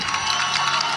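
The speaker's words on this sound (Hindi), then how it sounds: "तो आप भी तालियों के साथ परमेश्वर की तारीफ करें" Congregation at a Christian revival meeting in Jharkhand applauding in praise of God, a steady dense wash of clapping and cheering filling the hall throughout.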